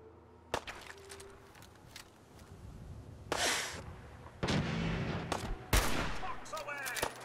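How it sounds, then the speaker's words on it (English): Gunfire in Fallout 4 on Ultimate Survival mode: sharp single shots and bursts break out several times across the clip over a low game background, loud and close, with brief gaps between volleys and faint voices underneath. "Opening fire."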